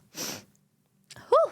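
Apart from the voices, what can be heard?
streamer sneezing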